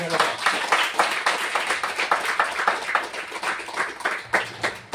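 A church congregation claps in a steady, quick rhythm, the many hands blending into a dense, close patter, with voices speaking faintly beneath.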